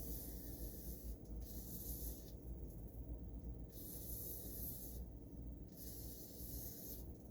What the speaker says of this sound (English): I will hit it with my WD-40. Obviously, this one has silicone in it for quick drying.